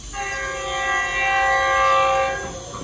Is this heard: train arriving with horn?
yes